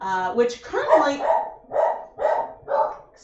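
A dog barks several times in a home kitchen while someone talks over it, the barks coming in a steady series of loud, close bursts.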